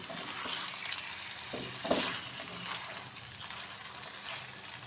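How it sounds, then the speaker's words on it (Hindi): Small chicken pieces fry in a karahi for a Pakistani chicken white karahi, giving a steady loud sizzle with occasional stirring scrapes and bubbling throughout. "इसको बहुत अच्छा से हमें फ्राई करना है।"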